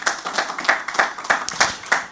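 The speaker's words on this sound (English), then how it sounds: "a round of applause for him" Clapping from the audience at a wealth summit conference, a fairly steady stream of claps with regular stronger pulses, moderately loud, with no talk over it.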